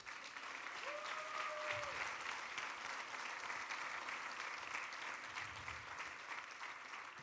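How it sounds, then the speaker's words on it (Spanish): Church congregation applauding during a sermon, sustained even clapping from a large crowd filling the room, with a faint murmur of voices underneath. "den un aplauso al Señor."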